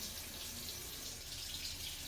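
Tap water runs steadily into a sink for handwashing, a continuous close hiss and splash with no breaks and no talking.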